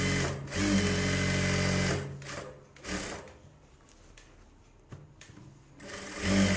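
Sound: sewing machine stitching a sleeve border

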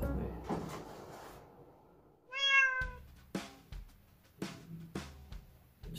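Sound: kittens meowing

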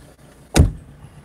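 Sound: car door being shut

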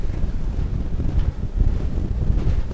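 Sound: Yellowfin 6500 CC boat with Yamaha F200 outboard running through waves

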